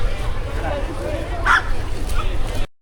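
A dog barks a few times amid a crowd at a Buddhist monks' peace walk in Charlotte, the yelps cutting through steady outdoor babble and nearby voices.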